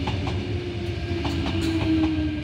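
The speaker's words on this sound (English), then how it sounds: "The front four cars arriving at platform number 3." A Sydney XG set train, its front four cars pulling into platform 3 at Wolli Creek, rolls in with a steady low rumble, a sustained wheel tone and a few light rhythmic clicks over the rails, moderately distant.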